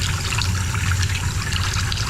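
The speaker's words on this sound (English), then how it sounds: "you can feel water running through" Water runs steadily through a newly installed bathroom vanity sink drain, a continuous close trickling and rushing flow with no talk over it.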